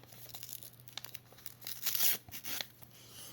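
A paper surprise packet being pulled and torn open by hand, close up, in a series of crinkling rips and tears that peak in the middle, with no talking.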